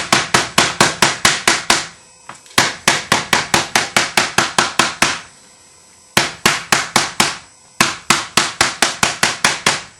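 Small wooden mallet pounding a piece of leather for a pancake holster, sharp, loud, closely spaced knocks in quick bursts of about a dozen strikes, separated by brief pauses, near and alone.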